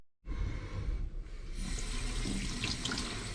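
Cold water runs steadily from a kitchen tap, a continuous hissing gush that starts abruptly and stays loud and close throughout, with no talking, while a ceviche soup is being prepared.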